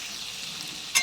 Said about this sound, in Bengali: নুন হলুদের সাথে ভালো করে ভেজে নেব আলুটাকে